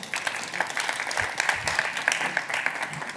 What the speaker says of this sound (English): If we can get a round of applause for Julia.